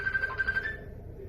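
Phone ringing while sealed inside a microwave oven during a signal test: a muffled, steady electronic ring tone repeats briefly, then fades, faint and enclosed-sounding over low background noise.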